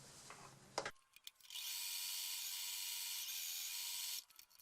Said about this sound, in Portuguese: vamos fazer o pesponto aqui ao redor